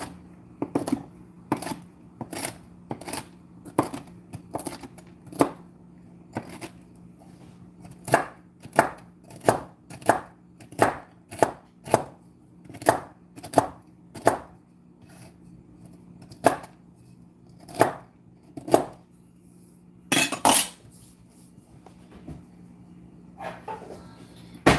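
Pecans being chopped with a knife on a cutting board while making butter pecan scones, a steady run of sharp, close knocks at an even brisk rhythm with short pauses, over a faint low kitchen hum and no talk.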